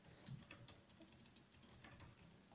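Typing on a computer keyboard during Discord.js bot coding, with faint, soft irregular key clicks and short taps scattered across a couple of seconds in a quiet room.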